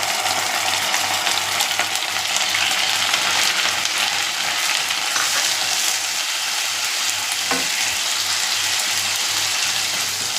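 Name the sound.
ginger garlic paste sautéing in a pan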